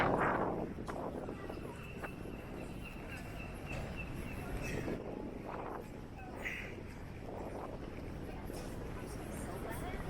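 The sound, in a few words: wind on a cold windy day in Blackpool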